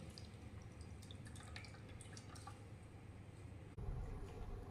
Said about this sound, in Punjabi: ਬਹੁਤ ਪਾਣੀ ਨਿਕਲ ਗਿਆ ਰੇਖਾ